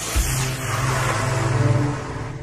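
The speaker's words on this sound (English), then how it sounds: "The engine blast gets the rocket moving off its launch pad." Continuous roaring rumble of a rocket engine blasting the rocket off its launch pad, loud and steady for a couple of seconds with no talk.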